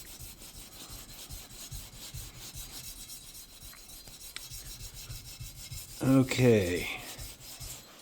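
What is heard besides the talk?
polishing with 1000 grit sandpaper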